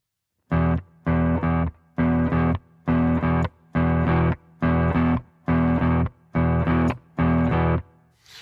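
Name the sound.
muted guitar blues riff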